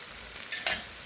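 Onion frying in a pan to a golden color gives a brief, close sizzle with a short burst of stirring, heard alone for about a second.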